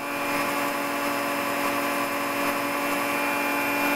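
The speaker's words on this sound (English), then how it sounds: "So I've sanded the face level." Steady, loud abrasive rasp of sanding a Teraminx twisty puzzle face level, continuous and close with a constant tonal hum throughout and no talking.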